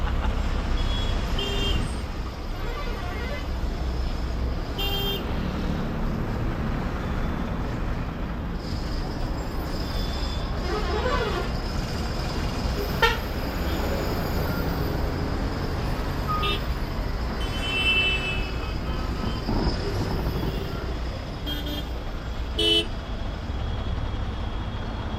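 Heavy city traffic, approached from inside a car heading into Prayagraj, makes a continuous rumble of trucks and buses with scattered horn toots and brake hisses, some near and some distant, throughout.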